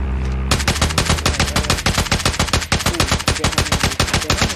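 Automatic gunfire from the video game Call of Duty Mobile rattles in loud, rapid, continuous bursts of shots, close and unbroken.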